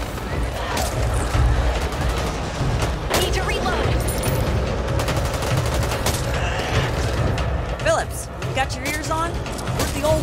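Gunfire in Back 4 Blood pops in rapid, near bursts over a low rumbling game backdrop, with booms and character voices shouting over it.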